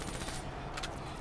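Rapid gunfire in the video game Call of Duty Black Ops 3 rattles in quick bursts during a zombie fight, a dense, faint crackle of repeated shots with no pause between them.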